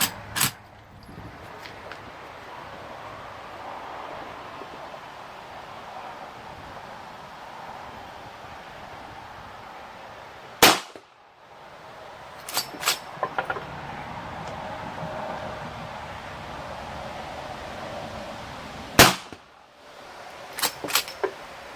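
Uberti 1873 lever-action rifle in .45 Long Colt fired at a 15-yard cowboy action range: a single sharp shot near the start, then one mid-clip, a quick pair, another single and a final cluster of cracks, each separated by quiet hiss.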